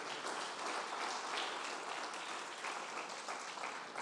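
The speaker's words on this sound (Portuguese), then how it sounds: "Bata as palmas para Ele." Church congregation clapping together during a worship service, a steady dense wash of hand claps held at an even level throughout, with no pauses or single claps standing out.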